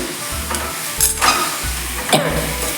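Okra frying in a pan over a low gas flame for a Navratri fasting dish, giving a steady close sizzle with a few sharp scrapes of stirring.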